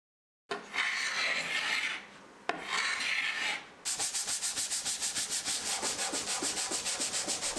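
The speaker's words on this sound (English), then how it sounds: "Then it was on to scraping and sanding the rest of the cabinet" A wooden veneered cocktail cabinet is being refinished: a couple of long, close scraping or sanding passes, then a quick run of regular back-and-forth sanding strokes on the wood.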